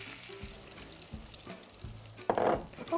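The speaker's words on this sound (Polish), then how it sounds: "Teraz to wszystko zalewamy wodą." Water poured into a pot over pieces of poultry, a splashing gush rising late and close, following faint kitchen clatter with no talk.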